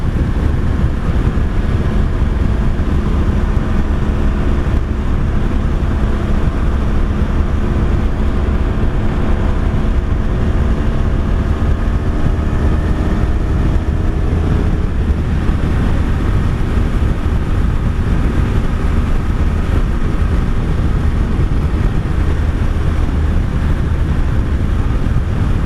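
A 1983 Honda Sabre V45 VF750S motorcycle rides along with a loud, constant engine drone buried under heavy wind rush, the tone rising and falling slightly with throttle, no talking.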